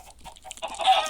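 Brief, close chicken clucks from Minecraft rising in a quick burst, short and fairly soft, with no voices.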